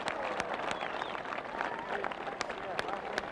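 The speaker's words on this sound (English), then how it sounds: "You don't have to look when the crowd applauds a shot like that." Golf gallery at the 1997 Masters final round applauds a shot, a steady wash of clapping and crowd noise at a moderate distance under a commentator's voice.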